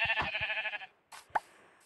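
Sheep bleating in a Minecraft-style survival game, one rapid wavering bleat followed after a short pause by a couple of brief clicks and a soft plop, loud and close.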